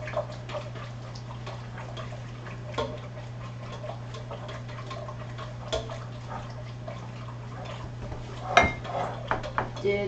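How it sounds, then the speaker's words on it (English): A whisk beats ingredients in a bowl while lasagna is being made: a faint, steady ticking and clinking over a low electrical hum, ending in a louder clatter near the end. "Whisk it real good."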